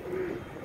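A pigeon coos once on a rooftop, a short, soft, throaty call heard fairly close over faint background noise.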